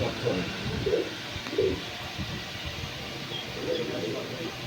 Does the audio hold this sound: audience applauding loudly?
no